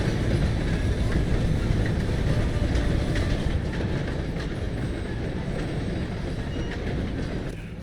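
A train in Red Dead Redemption 2 rumbles past close by with a continuous heavy roar and faint clickety-clack of wheels, loud and steady throughout with no talk over it.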